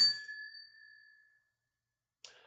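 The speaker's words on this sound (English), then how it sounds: "I ring the bell as we go green." A single bright bell ding rings out clearly and decays over about a second and a half, marking a stock chart turning green during a finance broadcast; a brief faint noise follows after silence.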